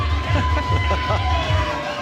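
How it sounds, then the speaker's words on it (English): A boxing crowd on an undercard fight night keeps up a raucous, continuous roar of cheering and shouting, with a voice speaking over it. "as you can probably hear, quite a vocal cheering section for this fight"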